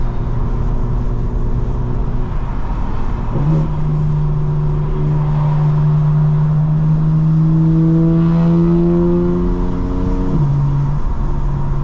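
A 2024 BMW M4 Competition xDrive with exhaust valves open drones loudly from close by, its engine note climbing steadily through the gears with a couple of clear shifts and a brief dip before rising again.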